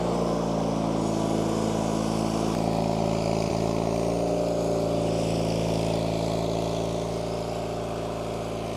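A 37-year-old John Deere 316 lawn tractor engine, a unit with known issues, runs at a steady loud idle-to-rev drone with strong low harmonics, holding constant throughout without talk.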